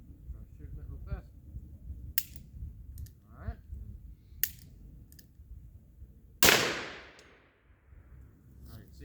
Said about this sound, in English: So there goes 22 Magnum.